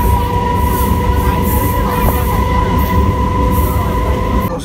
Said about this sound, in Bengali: 10:26 বাজে বেহুলা স্টেশনে এসে ট্রেন পৌঁছলো।